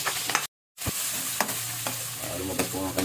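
Onion and garlic sautéing in a pan, a close continuous sizzle with stirring scrapes and clinks, briefly cut off near the start.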